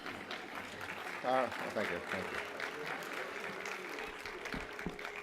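Audience clapping at a campaign celebration event, a steady spread of applause throughout the short stretch with a voice speaking briefly over it.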